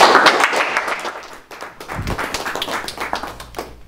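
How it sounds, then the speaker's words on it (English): A real-estate wholesaling meetup audience gives a quick round of applause for a guest speaker: a dense, loud burst of many hands clapping, fading briefly before a second wave of clapping. "Jason Lafonte, if you give him a quick round of applause, appreciate it."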